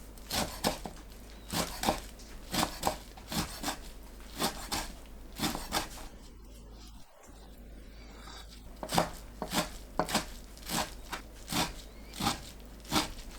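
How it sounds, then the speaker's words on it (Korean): A knife chops mugwort into small pieces with rapid, rhythmic strikes close by. The chopping pauses briefly midway, then resumes at the same brisk pace, and no one speaks. "쑥은 작게 썰어주세요"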